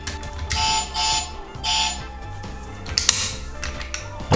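The second alarm signal of a toy Mercedes-Maybach S600 model car comes as a series of pulsing electronic bursts, roughly two per second at first, then a steadier warbling tone with a sharp click near the end.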